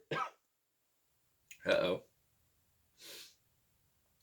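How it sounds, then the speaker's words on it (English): A few sharp, breathy bursts sound close to the mic, like a cough and throat-clearing, separated by quiet pauses. "I coughed."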